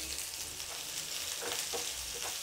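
Chopped onions sizzling in a little oil in a pan, with green chillies about to join them: a steady, close hiss of frying that runs the whole time, with a few brief stir-like bursts and no talking.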